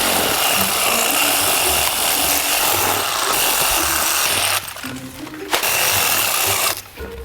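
A Craftsman V20 cordless reciprocating saw cuts through a palm tree with a loud, steady buzzing rasp, then stops briefly twice and restarts.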